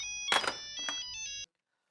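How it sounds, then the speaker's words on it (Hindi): Mobile phone ringing with an incoming call, a short electronic melodic ringtone of bright tones lasting about a second before cutting off abruptly. "मेरा कोई फोन आ रहा है"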